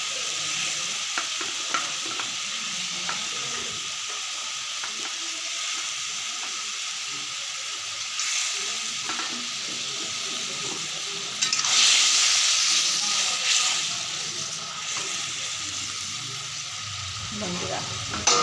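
Pieces of fried fish dropped into a simmering pan of water in a Bengali mustard-fish dish, producing a steady close sizzle and bubbling hiss that swells briefly louder partway through before settling back.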